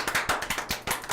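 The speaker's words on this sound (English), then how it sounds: "For all you deaf people out there watching on video, this is a round of applause" A round of applause during a live comedy podcast show: rapid, close hand clapping with a quick irregular rhythm, loud and dense throughout the brief burst, with no talking.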